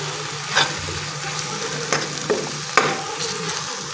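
Cashew, onion and curd paste goes into a tomato masala already frying in the pan, giving a close, steady sizzle. A few sharp spatula scrapes and clicks break through the hiss.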